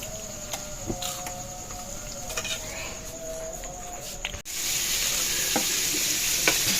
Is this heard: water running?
no